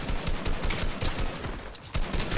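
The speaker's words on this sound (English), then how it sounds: "Bro is using a scoped assault rifle" Sustained scoped assault rifle fire in Fortnite, loud rapid bursts of overlapping shots that keep going with only brief gaps, with no voices over them.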